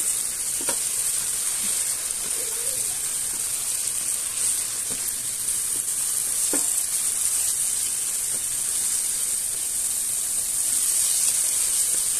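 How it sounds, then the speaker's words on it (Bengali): Whole spices frying in a pan for a duck curry give a steady, close sizzle and hiss that runs throughout, with a few faint stirring clicks and no talking. "মশলাগুলো ভালো করে ভেজে নিচ্ছি।"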